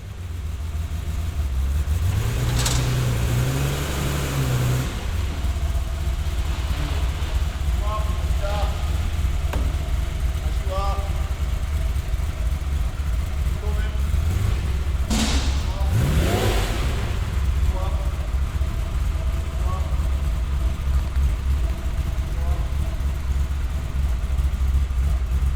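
Ferruccio Lamborghini's personal Lamborghini Countach, warmed up after workshop repairs, idling with a steady deep engine rumble and a few brief revs rising and falling, while someone talks over it.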